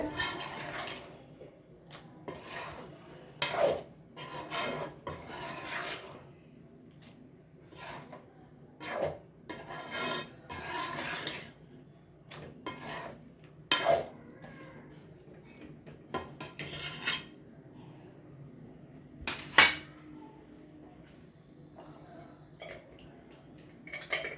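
A metal spoon scrapes and knocks against a pot as asafoetida powder is stirred into Tamil home cooking, intermittent clinks and scrapes over a quiet background.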